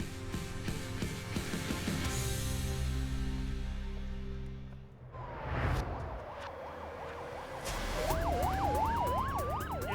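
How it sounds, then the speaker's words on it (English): An ambulance siren wails close by. A steady, droning tone comes first, then a sweeping wail cycles faster and faster over a rumbling vehicle. "You're just on the way to the hospital, Annie. You're in the ambulance."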